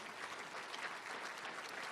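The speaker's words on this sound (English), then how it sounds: "My wife and our daughter, Lydia, please give them a round of applause." An audience at a football national championship ring ceremony applauds steadily, a dense wash of clapping held at even volume for the whole stretch, heard from some distance.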